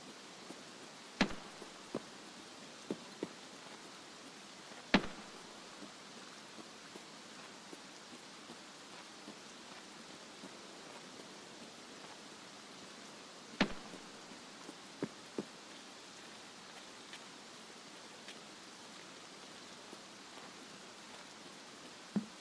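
Steady in-game rain in Escape from Tarkov, a soft even hiss of drops on surfaces lasting throughout, with a few sharp clicks and taps standing out now and then.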